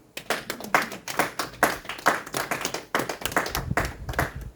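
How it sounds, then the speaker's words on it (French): A church congregation applauds together in a sustained burst of many hands clapping, loud and close, with rhythmic surges and a short lull near the middle and no talking. "Acclamons la parole."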